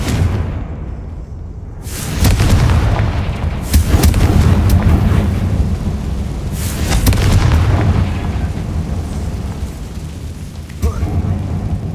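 In the video game Hogwarts Legacy, a Confringo fire spell explodes with deep, rumbling booms and fiery whooshes that swell and fade in waves, loud and close, with a voice speaking over them.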